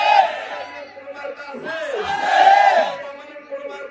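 A crowd at a BNP rally in Ramganj chants a political slogan in loud, rhythmic unison, voices rising and falling together, close and filling the space.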